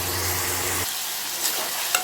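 Onions sautéing in a pan for tomato rice, a steady close frying sizzle that drops quieter partway through, with a couple of faint clinks near the end.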